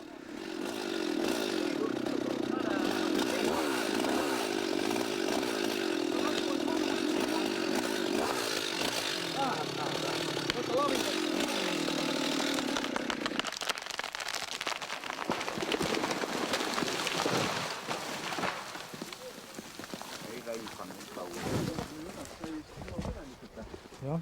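An aspen tree in the Soomaa wetlands comes crashing down from its stump after felling, a sustained loud cracking and rushing roar that breaks off midway into quieter rustling and thuds, with people talking over it.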